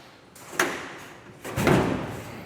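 Door at a homestead building pushed shut, a sliding scrape and a bump followed by a heavier thud, fairly close with some rustling.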